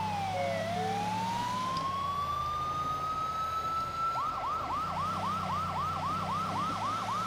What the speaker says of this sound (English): I hear sirens, maybe I should put mine on